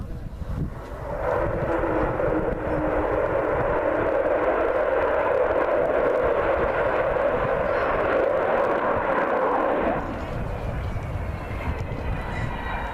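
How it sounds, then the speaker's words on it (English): Avro Vulcan bomber's Olympus jet engines roaring in a short burst as the aircraft pulls up into a steep wingover at the RIAT airshow, RAF Fairford, a loud sustained rumble for about nine seconds before easing off. "Just a short burst on the Olympus engines there as he pulls up for that steep wing over"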